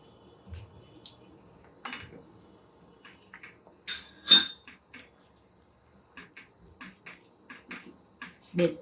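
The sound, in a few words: stirring soya chunks dip in a pan on high flame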